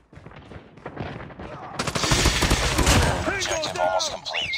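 A Type-25 rifle fires in the mobile shooter Call of Duty Mobile, starting softly and then erupting into dense, loud automatic fire, with in-game voice callouts mixed in.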